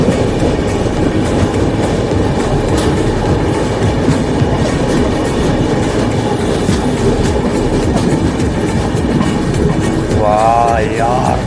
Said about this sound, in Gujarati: કાઢી લીધી ટ્રેન